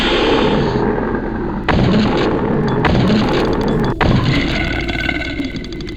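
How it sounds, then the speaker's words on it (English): An oxygen grenade blasts in Deep Fear during a final boss fight, three sharp heavy booms spaced a second or so apart over a dense rumbling background, loud and close. "Oxygen grenade."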